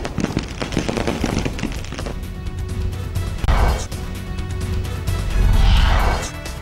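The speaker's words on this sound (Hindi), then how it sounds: "आतिशबाजी।" Fireworks burst in the sky over a birthday celebration in Erode, Tamil Nadu, a rapid run of crackling pops and bangs with louder booming swells, continuous and fairly near.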